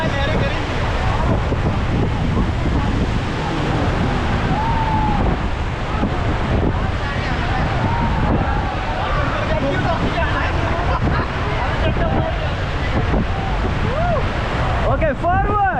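River whitewater rushes and churns steadily around a raft in Rishikesh, loud and continuous, with wind buffeting the microphone throughout and people shouting in the background.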